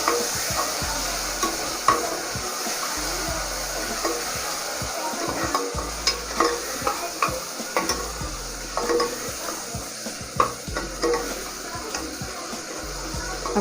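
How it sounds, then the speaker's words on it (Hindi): Chopped tomatoes are stirred into spicy frying okra (lady finger) in a pan, the sizzle running underneath frequent irregular spatula knocks and scrapes against the pan, close and fairly loud. "अब ये टमाटर हमने रखे थे बारीक काट के, ये भी इसमें डाल लेंगे, और इसको भी अच्छे से मिक्स कर देना।"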